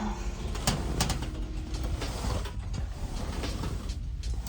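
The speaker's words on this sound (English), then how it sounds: "I'd say the only real downside was all the creaking." Repeated creaks and mechanical squeaks from a hostel bed frame come close up, irregular and fairly quiet, as it shifts under movement.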